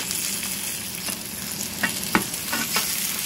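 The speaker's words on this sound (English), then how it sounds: "Now we're going to cook them on this medium-high heat on this one side for about 3 minutes." Pork chops sizzle and fry in a pan over medium-high heat, a steady close hiss with a few sharper pops and crackles, no talking.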